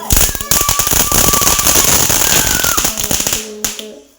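A Diwali firecracker bursts in a dense crackling volley, sharp loud pops rattling rapidly for about three seconds near the listener, then a few scattered cracks as it dies away.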